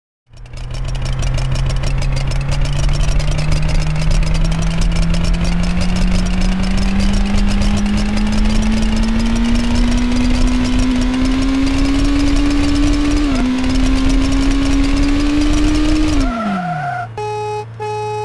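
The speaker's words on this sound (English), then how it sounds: "You can rev up the engine without hitting the gas if you upshift and downshift repeatedly." A Need for Speed III: Hot Pursuit car engine hums loudly and steadily, its pitch slowly climbing with a brief dip as it shifts, then dropping away near the end.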